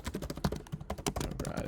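Rapid, uneven clatter of keys on a computer keyboard, fast bursts of typing close by with short pauses, no voices.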